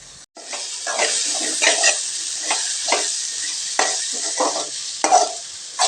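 Boneless goat head meat fries in hot oil with a steady sizzle, broken by repeated scraping stirs of a spoon through the pan, close and fairly loud, with no voices.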